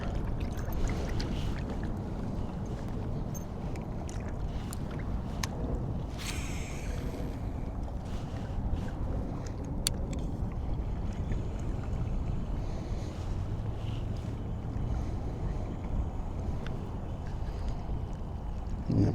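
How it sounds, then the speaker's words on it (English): Wind buffets a microphone on a fishing boat, a steady rough rumble with light splashes and knocks layered over it and no voices. "Because it's gotten a little windy."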